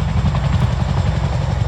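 A Royal Air Force Boeing CH-47 Chinook twin-rotor helicopter from 27 Squadron flies a display at the ILA Berlin 2018 air show, its rotors throbbing loud and close in a continuous heavy pulsing drone.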